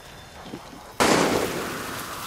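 A single loud gunshot-like crack bursts out after a quiet moment in the video game Far Cry 6, followed by a sustained noisy tail.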